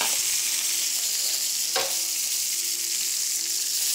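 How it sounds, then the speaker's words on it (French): Vegetables heating and glazing in a pan with olive oil and butter, a loud, continuous bright sizzle with a brief scrape of stirring midway. "Et les légumes, ils vont être chauffés, glacés."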